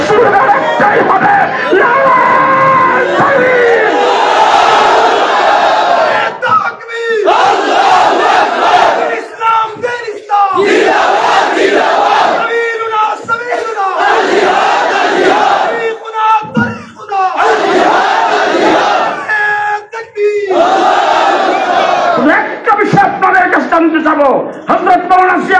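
Massed crowd at an Islamic religious gathering and rally in Bangladesh roaring a slogan in unison, loud and rhythmic, repeating in about six surging call-and-response waves separated by brief pauses, with shouting voices layered throughout.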